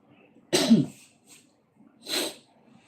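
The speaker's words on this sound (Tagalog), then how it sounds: "Ubo na ata. Tinuubo na." Two sharp, forceful coughs separated by a short pause, close and distinct against near silence.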